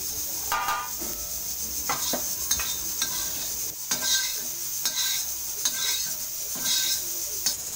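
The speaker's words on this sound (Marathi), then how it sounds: "धणे मस्त भाजून झालेले आहेत। आता काढून घेणार आहे।" Dry-roasted coriander seeds stirred in a hot pan with a utensil, giving repeated scraping and rattling strokes over a faint sizzle, close and steady with no talking.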